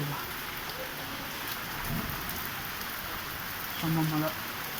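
Heavy rain pouring down in Bengaluru, a dense steady hiss of rain on surfaces filling the whole stretch, with faint voices or tones briefly underneath.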